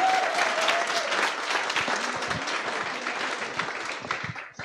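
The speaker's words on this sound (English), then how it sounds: "Big round of applause for you all." Sustained applause from a graduation ceremony crowd honoring the class of 2022, dense steady clapping filling the room and tapering slightly toward the end.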